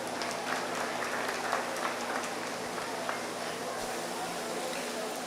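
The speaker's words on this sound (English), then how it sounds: "please give him another round of applause" Steady crowd applause fills the space at a 4-H dairy show ring, a continuous patter of clapping at moderate distance with a few louder claps standing out.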